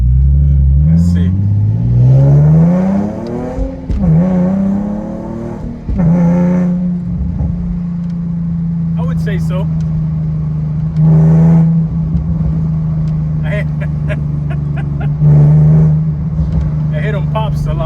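Nissan 370Z Nismo with test pipes installed, revving repeatedly: engine pitch climbs and falls, then settles into a steady loud idle with sharp exhaust pops, while a person speaks briefly over it.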